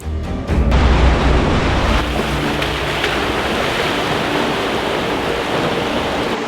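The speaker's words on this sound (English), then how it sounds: "there's still something unnatural about driving across a river" An off-road vehicle fords a river in Iceland's interior, with loud rushing, churning water and wind buffeting the microphone, a heavy continuous wash that swells early and then holds steady.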